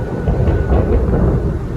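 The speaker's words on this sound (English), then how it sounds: "There's lightning out here and thunder." Thunder rumbling during a lightning storm outdoors at night, a continuous low, heavy roll with broad noise that stays steady and fairly loud throughout, with no talking.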